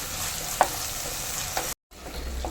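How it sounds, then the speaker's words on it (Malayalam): Onions and tomatoes with green chilli sautéing in a pan for a Kerala fish curry, a close, even sizzle with a couple of utensil knocks, cut by a brief gap of silence before the frying resumes. "ഇതെല്ലാം കൂടെ ഒന്ന് നല്ലപോലെ ഒന്ന് വഴറ്റിയെടുക്കാം നല്ലപോലെ വാടി വരണം"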